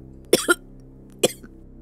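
A person coughs twice, a quick double cough followed about a second later by a single shorter one, close and clear against a quiet room.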